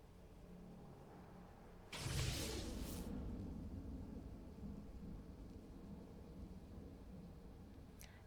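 Thunder from a lightning storm in the online fantasy game Lord of the Rings Online, heard as a loud rumbling crash that rolls on and slowly fades, with no one speaking.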